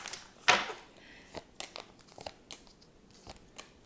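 Cards from an oversized tarot deck made of two decks combined are shuffled in quiet, irregular crinkly riffles and soft slaps, one sharp burst early and then scattered lighter card noises.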